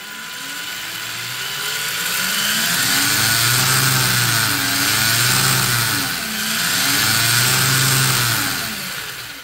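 An electric motor in a Tamiya TA02 RC car, driven by a TBLE04S ESC, whines close up under throttle in three rising and falling surges of pitch.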